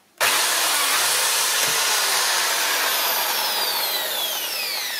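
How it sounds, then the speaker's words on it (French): An electric drill with a 4 mm bit boring into a part while repairing a car bonnet opening mechanism: a sudden start, then a loud, close, sustained high-pitched whine for about five seconds, with no talk. "Donc là, voilà, je suis en train de percer."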